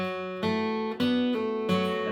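Acoustic guitar plays a bluegrass phrase in C from the tune Handsome Molly, four clear picked note onsets ringing into one another, close and alone with no talk.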